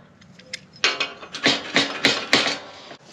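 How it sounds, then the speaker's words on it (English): A metal clamp is loosened and removed from square steel tubing, giving a series of sharp clanks and ratcheting knocks, roughly seven close, fairly loud hits in an uneven rhythm with no talking. "I'll take this clamp off and show you how loose it is."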